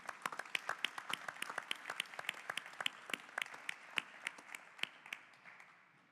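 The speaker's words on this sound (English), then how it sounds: "let's give them a round of applause anyway" Audience applause at an author talk, offered to home-front workers and Holocaust survivors; a small crowd of scattered individual claps, fairly close and distinct, tapering off toward the end.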